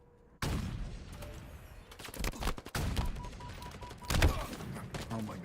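Sniper rifle shots ring out in a first-person shooter game, amid a loud, close stretch of rapid gunfire with several sharp cracks and a heavy thump near the end, with no talk over it.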